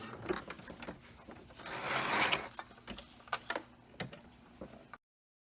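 A sewing machine stitches around the edge of an all-in-one cloth diaper, with a sustained whirring burst of stitching near the start, followed by scattered clicks and taps of the machine at close range.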